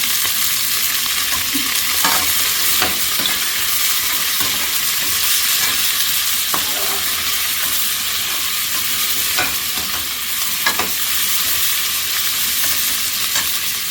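Sliced bitter gourd fries in a pan with a bright, continuous sizzle, punctuated by light scraping and clicks as it is stirred, steady and fairly loud with no voices.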